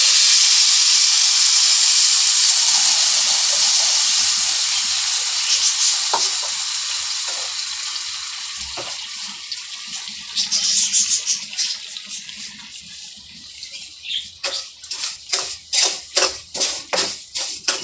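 Water goes into a pan holding half a kilo of sugar, setting off a loud hiss and sizzle that slowly fades into bubbling, then rhythmic scraping and stirring strokes as the sugar melts into syrup.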